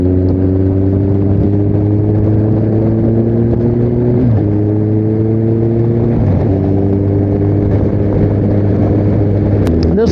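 Kawasaki Concours 14 motorcycle with a Musi slip-on exhaust, a steady loud engine drone at cruising speed with slight shifts in pitch, close and continuous.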